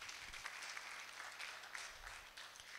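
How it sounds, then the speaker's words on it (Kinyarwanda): Church congregation clapping for the word of God at a sermon, a dense, steady patter of many hands filling the whole moment with no voices over it. "Reka dukomere ijambo ry'Imana amashyi"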